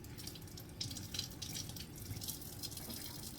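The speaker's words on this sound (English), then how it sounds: "Let me rinse it off." Tap water runs steadily into a sink while food is rinsed beneath it, a faint continuous splashing hiss with small irregular spatters.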